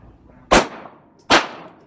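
Two sharp gunshots at an indoor public shooting range, loud close cracks spaced under a second apart, each with a short decaying tail, no talk between them.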